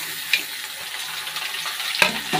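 Chopped tomato, garlic and green chili tossed into onions already frying in a pan, giving a steady bright sizzle with a couple of sharp stirring clatters near and loud.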